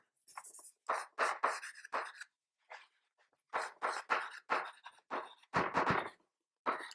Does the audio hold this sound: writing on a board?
yes